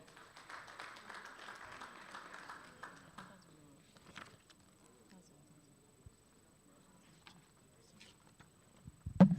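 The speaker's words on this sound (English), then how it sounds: "A round of applause for her again." Audience applause for Mrs. Ayo Obe at a law week event in Lagos, a faint, thin patter of clapping in the first few seconds that thins into scattered claps and room noise.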